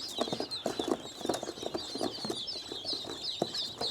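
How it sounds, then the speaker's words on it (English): Baby ducklings peeping in a brooder, a busy chorus of high, rapid chirps and soft clucking calls overlapping continuously, close and moderately quiet with no talking. "Who doesn't love cute little ducklings?"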